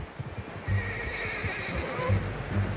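A horse whinnies and neighs in Red Dead Redemption 2, loud and close, with clip-clopping hooves and muffled game ambience around it.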